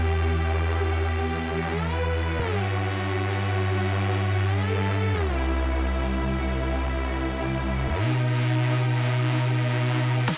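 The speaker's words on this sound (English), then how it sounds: "we can make a cool intro pattern with this saw." A saw-wave synth intro pattern built in the free Vital synth for drum and bass: bright, buzzy chords stepping through several held changes with a deep sustained bass beneath, steady and loud throughout with no talking.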